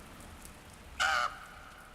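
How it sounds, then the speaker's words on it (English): A single loud crow caw in the video game The Last Door, one short harsh call over a faint background of steady hiss. "Sounds like the crows may have found Wakefield."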